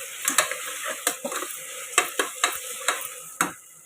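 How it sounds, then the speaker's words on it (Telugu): Ginger garlic paste frying in a pan for goat head curry, a steady sizzle punctuated by about ten sharp spoon scrapes and taps in an irregular rhythm, close and clear with no talking. "అల్లం వెల్లుల్లి పేస్ట్ 2 టీ స్పూన్లు వేసానండి నేను. 2 స్పూన్లతో అలా వేసుకొని అది వాసన పోయేంత వరకు కొంచెం వేయించుకోవాలి."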